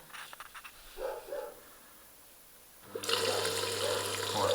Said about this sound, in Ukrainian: бачите, йде змивання, ну, тут досить гарний напор.